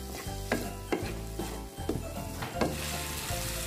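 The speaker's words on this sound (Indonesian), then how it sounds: "Aduk rata kembali." Tuna seasoned with salt and sugar stirred in a frying pan, with a steady sizzle and a spatula scraping in regular strokes, close and clear, with no voice.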